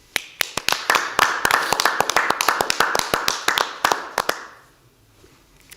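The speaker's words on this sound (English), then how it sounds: "Let's give Divine a big round of applause." Crisp, close hand claps at a staff appreciation event for health department employees: around twenty quick, fairly even claps that stop abruptly, leaving a short quiet tail.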